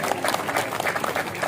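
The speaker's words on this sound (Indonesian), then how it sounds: "Tepuk tangan buat mahasiswa." A stadium crowd at the opening ceremony of a national student community-service program at Universitas Palangka Raya claps in a steady, dense wash throughout the short moment.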